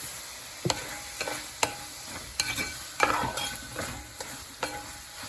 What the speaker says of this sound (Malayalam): ഇതെല്ലാം നല്ലോണം വഴന്ന് വരട്ടെ.